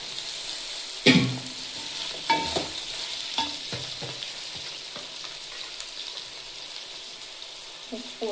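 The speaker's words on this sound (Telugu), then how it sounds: "టమోటాలు వేస్తున్నా, పచ్చిమిర్చి, మిరపకాయలు" Tomatoes and green chillies sizzle and fry in a pan with sharp crackles and stirring scrapes at intervals, a steady hiss underneath throughout, close and moderately loud.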